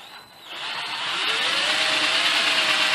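A power drill whirs as it bores a 5/16 through hole into a knob or handle after countersinking, spinning up and then holding a steady, close, continuous drone.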